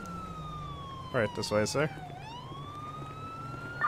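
A wailing electronic ambulance siren in the video game GTA 5 sweeps slowly up and down in the background while someone speaks briefly over it.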